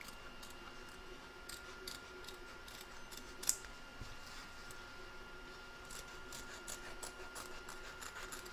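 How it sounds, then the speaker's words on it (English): Scissors snip through fabric around the edge of a large reindeer appliqué head, close and quiet, with one sharper clip standing out among soft, scattered cuts. "Trim around the edge of your head."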